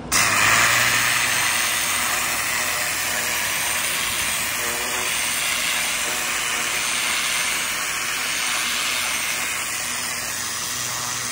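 Pressure washer spray gun fitted with a turbo nozzle, running continuously with a loud, steady hissing roar of high-pressure water that holds for the whole stretch without pause.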